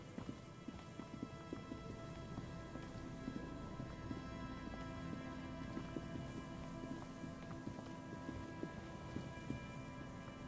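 Steady rainfall in the video game Disco Elysium patters continuously on surfaces, with a constant hiss and scattered droplet taps throughout.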